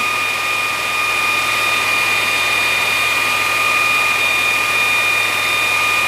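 A Vevor 2x82 belt grinder runs steadily while its belt is tracked, a loud continuous motor hum with a high whine and even whooshing belt noise, no pauses and no talking.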